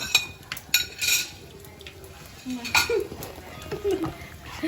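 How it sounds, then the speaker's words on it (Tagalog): Siling labuyo chilies go into a pot of cooking laing with clinks and stirring scrapes against the pot, a faint sizzle underneath and a voice speaking over it. "Ilalagay na po ang sili. Siling labuyo ng mga Bicol."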